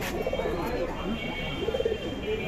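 Pigeons coo in a weekly pigeon market at Magura's Notun Bazar, low rolling calls rising and falling twice amid a steady crowd murmur and distant chatter.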